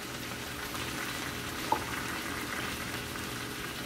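Cabbage and bacon cook in a pan with added water over medium heat, giving a steady, continuous bubbling and sizzling hiss throughout, with one brief tap partway through.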